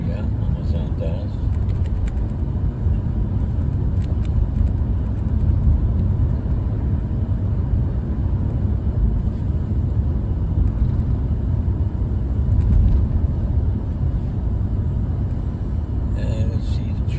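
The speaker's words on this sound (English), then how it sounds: "And you see the trucks going by, Amazon trucks" Amazon delivery trucks pass by near a large warehouse, a steady broad engine and tire rumble that swells and recedes continuously, with a voice talking over the traffic.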